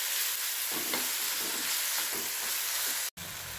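Curry leaves, coriander leaves and a little ginger frying in a pan, a steady close sizzle with soft stirring scrapes and a brief drop-out near the end.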